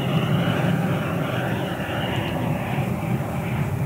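An EDF Odyssey JETFAN-120 PRO model jet on landing approach gives a steady electric ducted-fan whine at moderate distance, constant throughout.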